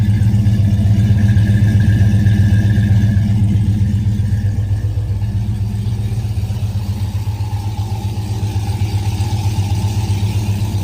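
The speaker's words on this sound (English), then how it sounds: "It does have exhaust cutouts," A 1970 muscle car with an air grabber hood and electronic exhaust cutouts idles steadily, giving a loud, deep, continuous rumble with no voices over it.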